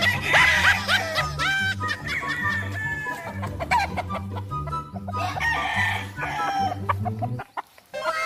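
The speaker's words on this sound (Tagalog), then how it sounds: "talaga namang shout out pa nga ang manok" Roosters crowing on a hillside farm raising fighting cocks, several loud overlapping crows over a steady rhythmic low background beat, continuing for most of the stretch before a brief pause near the end.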